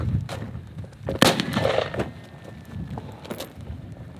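Gunshots crack at an outdoor shooting range, a loud sharp report standing out among a few fainter pops and bangs against a low background rumble.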